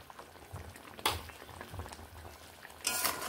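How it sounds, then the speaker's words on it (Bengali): A pot of koi fish curry bubbles at a steady simmer, with soft continuous boiling and a few sharper clinks and stirring bursts close by. "এইবার আমি ফুটিয়ে নেব আর একটুখানি স্বাদ মতো নুন দিয়ে নিচ্ছি"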